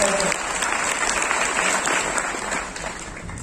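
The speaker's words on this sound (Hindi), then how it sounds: "एक तालियां" Audience applause at a motivational speech show, a dense, steady roar of clapping from a large crowd that holds loud throughout and eases slightly at the end.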